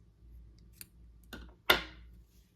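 Scissors snip the yarn ends of a finished crochet ornament: a few light clicks followed by one sharp, close cut, quiet and isolated with no talking.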